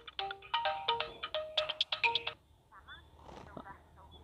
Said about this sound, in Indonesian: Saha ya nu telepon.